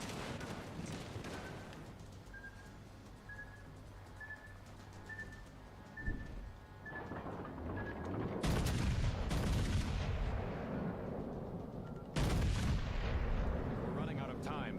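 Battleship main-gun salvos in World of Warships: Legends boom out in several loud, broadband blasts, the heaviest two a few seconds apart near the end, over a rumbling game soundscape with a thin tonal chime early on.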